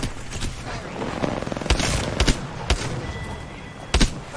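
Gunfire in the battle royale game Apex Legends, several sharp shots in short bursts over a steady background bed, mid-distance and fairly loud.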